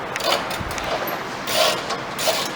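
Tools work loose exhaust bolts beneath a raised Infiniti G35, giving faint ratcheting and scraping metal clicks over a steady background hum.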